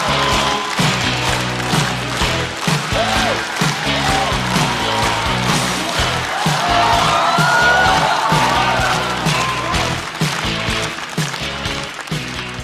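A studio audience at a stand-up comedy show claps and cheers to welcome the comedian who runs a comedy club onto the stage, a dense, loud, sustained wave of applause with scattered whoops and no pause.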